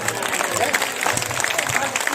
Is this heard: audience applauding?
yes